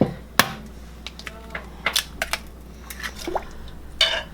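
Eggs cracked into a bowl of pumpkin pie filling made with milk, pumpkin and sugar. Several sharp, separate taps and small wet drips arrive irregularly at close range over a quiet background.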